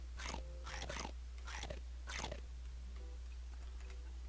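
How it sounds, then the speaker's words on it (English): Crunching bite effects in the video game Circle of Life, as a creature bites into animals or plants: four quick crisp crunches close together, then a couple of fainter ones, over a steady low hum. "You have these little fun crunch sounds when you crunch into the animals or the plants."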